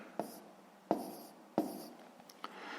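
Pen scratching a fraction onto paper during a sixth-grade maths exercise, heard as three or four short, faint strokes at a steady pace, close and quiet, with no talking.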